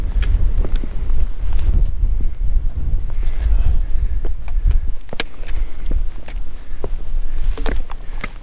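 Wind sweeping the Nantlle Ridge in Eryri (Snowdonia) buffets the microphone with a loud, continuous low rumble, broken by a few sharp ticks and crunches close by.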